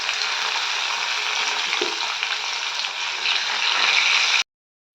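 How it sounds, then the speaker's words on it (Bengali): Cauliflower fries in a pan with a steady, even sizzle that holds at a moderate level throughout, then cuts off abruptly near the end. "বন্ধুরা দেখতেই পাচ্ছেন এখানে ফুলকপিটা ভাজছি"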